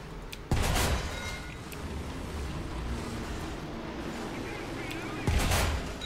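A tank's main gun fires twice in War Thunder, two heavy booming shots a few seconds apart over a constant rumbling engine and wind-like background.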